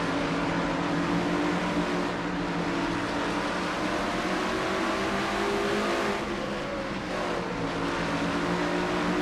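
A race car engine in a stock-car racing video game drones loudly and steadily at high revs, holding one sustained tone with slight pitch shifts, heard from an onboard view with no talk.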